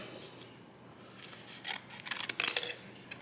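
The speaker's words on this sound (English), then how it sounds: "Snip through here." Scissors snip through clear Scotch tape while an ammo storage container is being labelled, a few quick crisp cuts close by, the loudest burst of snipping near the end of a quiet moment.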